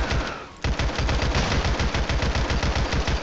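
Automatic gunfire in a video game set in the Bronx rattles in a fast, loud, continuous burst after a brief lull, with no voices over it.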